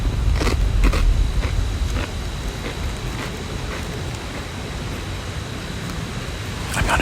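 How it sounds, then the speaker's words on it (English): Loud, close crunching bursts of someone chewing crisp Doritos chips, several bites in the first seconds and again at the end, with quieter munching between. "I'm going to eat some Doritos and I'll be right back"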